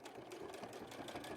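A sewing machine runs steadily, top stitching the cuff of a laminated raincoat, its fast even needle rhythm close and continuous with no talking.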